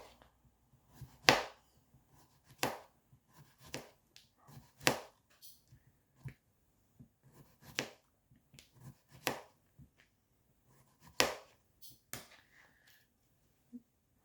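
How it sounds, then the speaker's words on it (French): Ceramic knife chopping a courgette on a board, a dozen or so sharp, close cuts at irregular intervals with quiet gaps between them. "Donc, on coupe la courgette."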